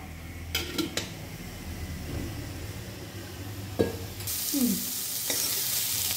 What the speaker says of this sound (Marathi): भाजताना तेल थोडंच टाकायचं आहे, जास्त नाही टाकायचं। तेल टाकल्यामुळे पटकन भाजला जातो कांदा।